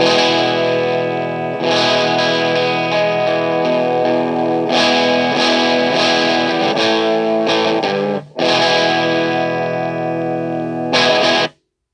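A sustained electric guitar through a fuzz pedal, the amp set to slight crunch, chords ringing loud and thick, briefly cutting out before resuming, then stopping.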